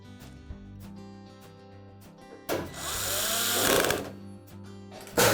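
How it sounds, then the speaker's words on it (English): Power screwdriver driving retaining screws into a Frigidaire range panel, one loud whirring drive of about a second and a half after a few faint clicks, close and alone. "And then put in the rest of the retaining screws."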